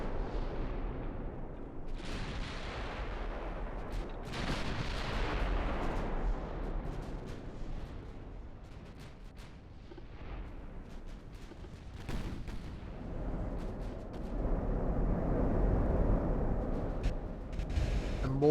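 Battleship shellfire booms and rumbles in the naval game Ultimate Admiral: Dreadnoughts, with repeated distant gun blasts and splashes rolling over a continuous battle din.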